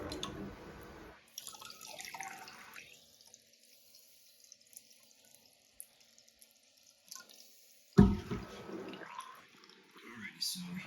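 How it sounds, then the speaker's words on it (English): A high tank toilet with a black seat flushes with eight marbles in the bowl, giving a rush of water, then a long quieter stretch of flowing and draining, and a sudden loud surge near the end. "we'll do one more flush from above"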